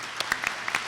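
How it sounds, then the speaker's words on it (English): A handful of scattered claps from an audience at a social venture pitch competition, sparse and brief, like the very start of a round of applause. "So if we could just give them a brief round of applause."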